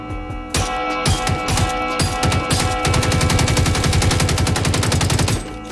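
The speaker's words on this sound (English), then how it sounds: "how come I see y'all shooting at something?" Rapid automatic gunfire in the video game Generation Zero, loud sustained bursts of shots for several seconds, then cutting off, with no talking.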